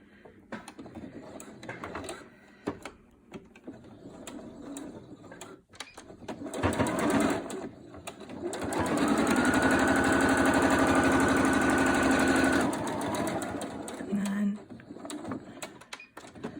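A sewing machine fitted with a blind hem foot stitches a pleated fabric face mask, running in one loud, steady whirring burst of several seconds between quieter handling noises and speech.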